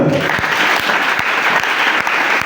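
Church congregation clapping together during a sermon, a loud, close crowd of hands with a steady rhythmic beat pulsing roughly every half second over the general applause.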